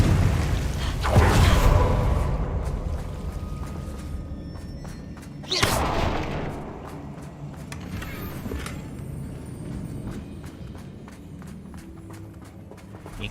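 Confringo blasting spell cast in Hogwarts Legacy on hard difficulty, two heavy booming bursts, the first near the start and the second midway, each trailing off into a rumbling game soundscape.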